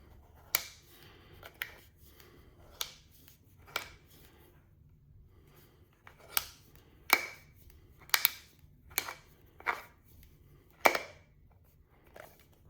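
A Honda 15400-R5G-H01 oil filter is cut open with a tool in one continuous pass, making a series of sharp, irregular clicks and snaps, about a dozen, against a quiet background.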